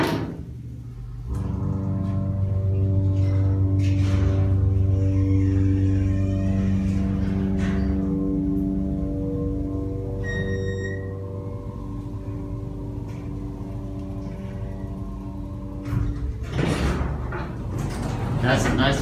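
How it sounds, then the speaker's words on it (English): A Schindler elevator motor hums steadily with a low droning whine, rising and settling over time, with a few clunks and a brief beep midway. "Listen to that motor one more time."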